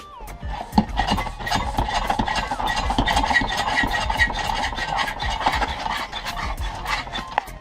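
Hand pump drawing engine oil up through a hose slid down the dipstick tube during an oil and filter change; loud, close, continuous rasping and rubbing strokes in a steady rhythm for several seconds.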